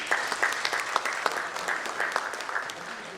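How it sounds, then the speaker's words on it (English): Audience applause at a finance summit awards event, a steady dense patter of many hands clapping throughout with sharper individual claps poking out, fairly loud and continuous with no talk. "a big round of applause, please"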